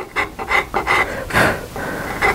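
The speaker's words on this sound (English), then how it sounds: "of the rasp, you get a lot more cutting action" A rasp files a wooden rifle stock for a CZ 457 with repeated close, rough scraping strokes in an uneven rhythm, each one a short gritty burst of cutting.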